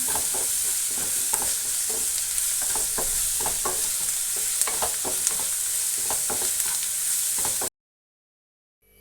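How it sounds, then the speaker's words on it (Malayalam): Crushed garlic and ginger sizzle in hot oil as they are stirred for chicken pola, a steady close-up crackle broken by scraping stirs, running continuously before cutting off abruptly into silence. "ഇതിലേക്ക് ഈ വെളുത്തുള്ളി ഇഞ്ചി ചതച്ചത് ഇട്ട് കൊടുക്കണ്ടേ ഇതിൻ്റെ റോസ് മാറുന്നത് വരെ നമ്മളൊന്ന് ഇളക്കി കൊടുക്കണം"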